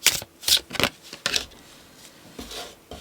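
Tarot cards are shuffled and riffled in short crisp bursts, several quick snaps in the first second and a half followed by softer slides and taps, close and fairly quiet, with no voices.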